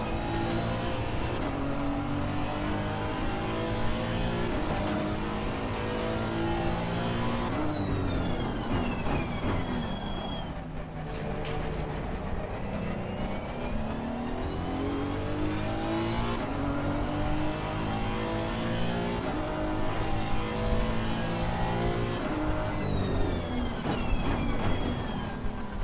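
Race car engines from Assetto Corsa Competizione on PS4 roar continuously, with several cars revving and shifting through gears close together, pitch sweeping up and down as they accelerate and brake.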